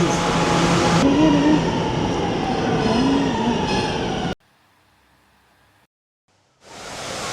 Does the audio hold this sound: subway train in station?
yes